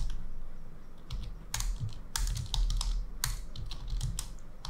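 Steady typing on a computer keyboard while composing text in an AI writing assistant, with a continuous patter of key clicks and a few louder bursts throughout, heard alone with no talking.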